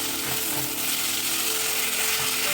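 Green beans and mushrooms with black pepper and spices fry in a pan, giving a steady close sizzle with faint stirring clicks underneath, no voices present.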